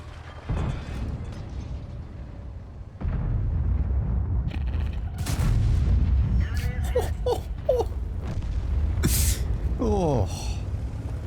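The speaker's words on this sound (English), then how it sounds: "the HE rounds on this tank are glorious" Booming HE rounds from a 60TP super-heavy tank in World of Tanks fire amid a dense, rumbling game mix of mechanical clanks and blasts, with someone talking over the action.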